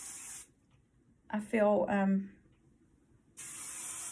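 Two bursts of a spray bottle misting hair hiss close by, one at the start and one at the end, with a brief spoken phrase between them.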